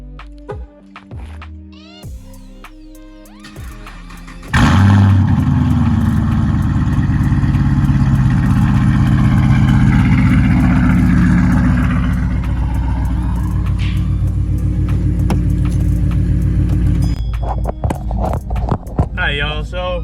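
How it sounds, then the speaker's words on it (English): A Pontiac G8 GT cold start: the engine catches abruptly and roars loudly, then holds a steady, rumbling fast idle up close for about twelve seconds before settling down. "gotta get a cold start"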